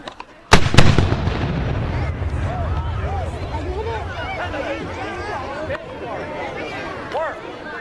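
A ceremonial musket volley at a Burgoyne surrender day reenactment cracks out as one sudden loud blast, then rumbles and echoes away while a crowd chatters and calls out.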